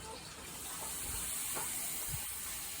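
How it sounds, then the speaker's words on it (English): Liquid butane poured onto a surface boils off with a steady broadband hiss and faint gurgling, continuous and close for the whole stretch, during an air conditioning demonstration. "If I pour that butane onto here, that will boil."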